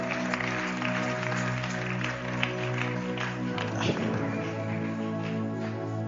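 A church congregation cheers and claps loudly for Jesus during a worship service, a dense, steady wall of applause and voices over sustained musical tones throughout.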